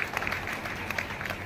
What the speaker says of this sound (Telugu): గట్టిగా చప్పట్లు, అభినందనలు